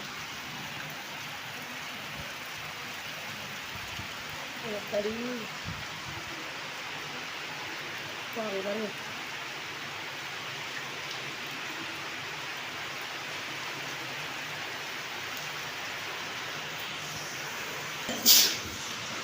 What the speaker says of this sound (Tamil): மழை சத்தம் பாருங்க, நல்லா கேட்குதா?